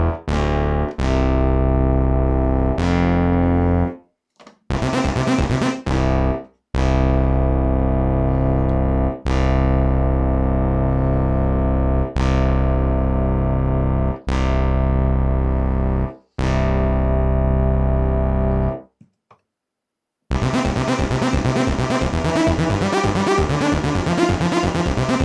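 Moog Taurus MkIII bass pedal synthesizer playing loud, sustained, harmonically rich bass notes that change every second or two, with brief silent breaks and a denser, buzzier passage near the end.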